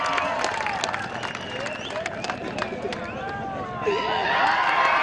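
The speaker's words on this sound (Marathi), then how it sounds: "आपण जोरदार टाळ्यांनी स्वागत करा" Spectators at the final of a local village cricket league, the Vangani Premier League, clap and cheer as the match ends. Sharp claps break through a busy crowd murmur, and the noise swells near the end.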